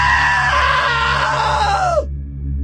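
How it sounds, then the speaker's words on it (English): A loud, sustained scream from a video game character in What Remains of Edith Finch runs about two seconds with a falling pitch, then cuts off sharply. A low steady hum sits beneath it and continues afterward. "Now that was a great scream."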